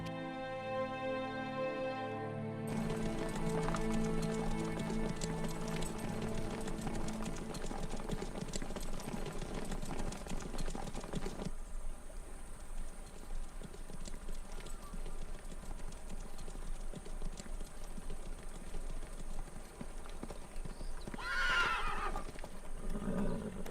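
Horses gallop with rapid, steady hoofbeats that carry on for a long stretch under a rushing background, and a horse's whinny rises clearly near the end.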